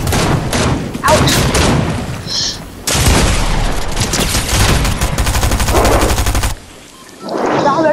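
Rapid automatic gunfire from Fortnite tilted zonewars matches, loud bursts and sustained fusillades filling most of the clip with brief pauses, over game explosions and thuds, with players' voices mixed in.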